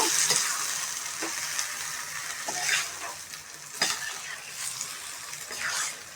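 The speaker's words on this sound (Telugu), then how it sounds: "వేసుకొని వన్ టైం కలుపుతాము" Tomato chutney is stirred in a frying pan while it sizzles steadily, with a few sharp scrapes and clacks of the spoon against the pan.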